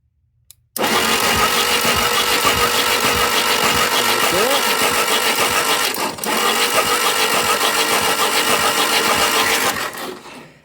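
A 1958 Jeep DJ-3A Dispatcher's engine cranks over steadily with the ignition on, a loud, sustained mechanical churn that starts abruptly and stops just before the end.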